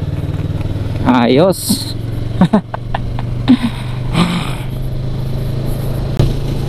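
A Yamaha R3 motorcycle engine on a road test, a steady close drone with a rising rev sweep early on, while excited voices shout over it.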